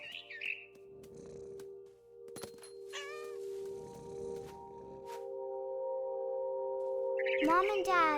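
In the video game What Remains of Edith Finch, a cat gives a few short meows over a sustained musical drone, with a rising cry early and a warbling yowl near the end.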